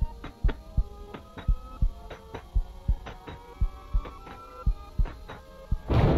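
A Minecraft horror map's heartbeat throbs steadily, about a dozen deep double thumps in a quick, even rhythm over a low hum, ending on a sharper burst of noise; no voices.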